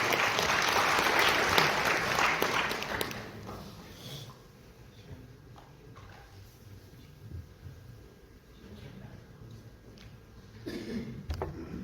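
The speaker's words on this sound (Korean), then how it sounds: "큰 박수로 맞이해 주시기 바랍니다." Loud applause from a seminar audience in a hotel hall welcoming a university professor to the podium, fading after about three seconds into quiet room tone with scattered faint claps and a brief burst near the end.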